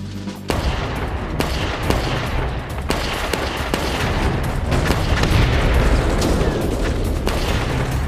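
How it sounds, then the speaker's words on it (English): A small arms barrage from a World War II attack in France: rapid, dense gunfire with sharp cracks and heavy booms rolling continuously and loudly for the whole stretch. "Winters kick-started the attack with a small arms barrage."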